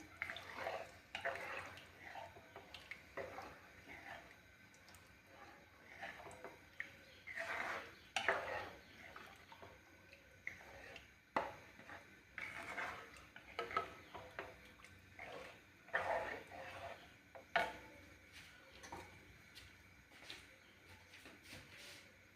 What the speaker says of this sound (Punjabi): ਆਪਾਂ ਜੀ ਚੰਗੀ ਤਰ੍ਹਾਂ ਇਹਨੂੰ ਮਿਕਸ ਕਰ ਦਾਂਗੇ